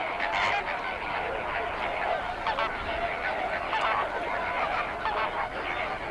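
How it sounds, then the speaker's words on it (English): Greater flamingos calling at a salty volcanic lake, a dense chorus of goose-like honking and gabbling from many birds at once, continuous and moderately distant over a broad background wash. "The lake is home to one of the most iconic bird species, the Greater Flamingo."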